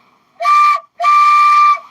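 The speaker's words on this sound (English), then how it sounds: "I hear a train. I hear the train a coming." Two loud, clear train whistle blasts, a short one followed by a longer one, steady in pitch and sounding fairly close.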